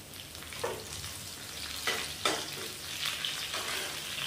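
Washed curry leaves hit hot oil with potatoes that have already browned, and the pan gives off a steady frying sizzle. Sharper spatters and stirring scrapes break through now and then, and no one speaks over it.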